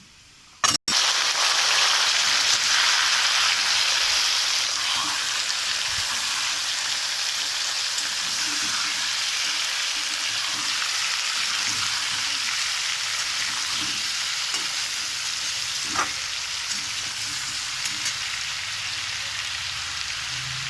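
Washed mango pieces drop into oil where garlic has been frying until slightly burnt, setting off a loud, steady sizzle with a sharp onset and occasional faint stirring taps, with no talking.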